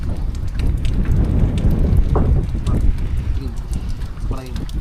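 Steady rain patters on a surface, dense and close, with people talking over it.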